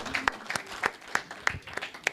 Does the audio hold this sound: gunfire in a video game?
no